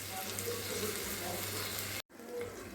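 Shrimp sizzling in spices in a pan over low gas, a steady soft frying hiss throughout with a brief cut near the end.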